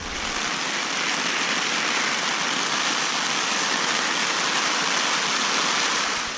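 Steady heavy rain falls at a campsite, a dense continuous hiss close around with no pauses and no talking.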